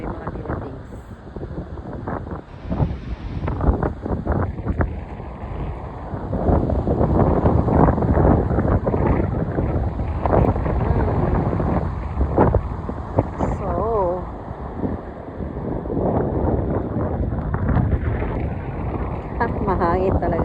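Strong wind buffets the microphone on a beach in the south of France, a loud continuous roar with gusts that rises and falls throughout, with people talking over it.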